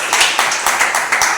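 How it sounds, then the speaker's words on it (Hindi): A church congregation at a Sunday service claps in a quick burst, several loud rhythmic clap pulses close by with no talk. "एक जोरदार ताली बजाएं।"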